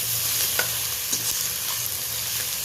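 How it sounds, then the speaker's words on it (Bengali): Onion and tomato fry in a pan, with ginger paste added. A steady hiss of sizzling runs close and even, with a few faint utensil taps. "এই দেখুন পেঁয়াজটাও বেশ ভাজা ভাজা হয়ে গেছে,"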